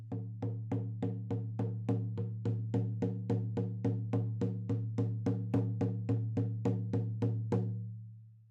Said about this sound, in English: So basically the drumming sounds like this.